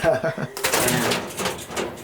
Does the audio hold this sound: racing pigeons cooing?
yes